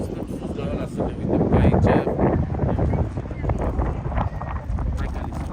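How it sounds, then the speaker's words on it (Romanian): Strong wind buffets a handheld phone beside a rough, agitated sea, a loud, continuous rumbling rush with heavy microphone noise that swells and eases throughout. "Deci bate vântul de-mi mișcă telefonul."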